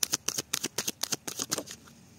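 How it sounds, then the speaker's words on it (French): Tarot cards being shuffled and drawn, a quick run of crisp riffling snaps and flicks in close succession, fairly quiet and close up, tapering off near the end with no talking. "Allez, on tire 5 cartes."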